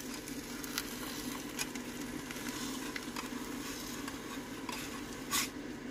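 Eggs frying on a hot plate inside a minivan, with a steady close sizzle throughout and a few light scrapes and clinks of a utensil against the pan.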